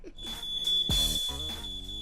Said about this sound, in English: who set off the smoke alarm?